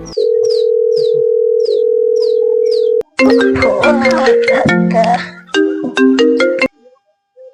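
A steady outgoing-call ringback tone repeats with short beeps for about three seconds on a phone call, then a loud musical ringtone melody plays until it cuts off.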